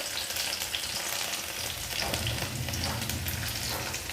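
Crushed garlic sizzles in hot oil as a tempering for drumstick amti, a loud, dense, steady frying crackle with faint stirring and no speech.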